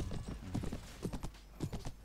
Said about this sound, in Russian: Лошадь моя весело скачет так.